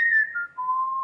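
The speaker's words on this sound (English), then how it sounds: "I hear a zookeeper whistling in my ear." A zookeeper whistles a short two-note phrase, a clear tone sliding down to a lower steady pitch, close and alone.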